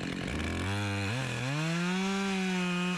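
An Echo CS-2511 top-handle chainsaw saws through branchy wood, running loud and close with a continuous whine that drops in pitch under load and then holds steady.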